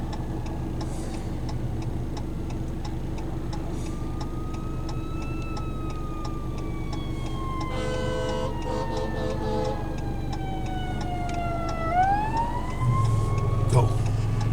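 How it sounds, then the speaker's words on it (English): An ambulance or fire truck siren wails past, its long sliding tone falling and then rising again over steady street and traffic noise, with a ticking sound throughout and some background voices. "Oh, an ambulance or fire truck."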